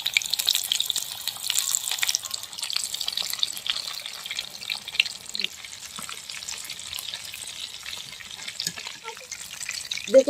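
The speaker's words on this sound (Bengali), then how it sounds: "চিকেনগুলো আমি এবার ভেজে নেব" Chicken frying in a pan, with a steady high-pitched sizzle and crackle throughout, a few soft clinks and stirring knocks near the end, no talking.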